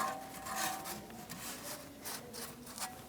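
Hand rubbing rust inhibitor into bare metal around the starter mounting area of a 1999-2025 Ford E-350 Super Duty van with a 5.4L V8, producing a close, steady scratchy rubbing sound with short repeated strokes and no talk.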